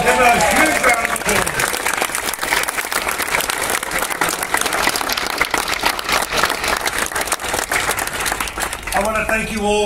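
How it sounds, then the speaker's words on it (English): Loud, sustained applause from a large crowd of hundreds at a transit railcar inaugural event, dense clapping throughout with a voice speaking over it near the start and end. "Ladies and gentlemen, give a huge round of applause."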